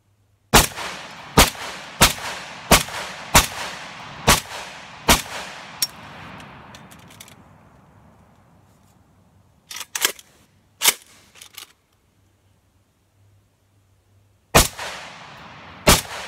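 Shots from an AK-47 style 7.62x39 rifle conversion fired into a carved jack-o'-lantern outdoors: about seven loud, sharp cracks at an even pace, then a few scattered shots after a lull and a final burst.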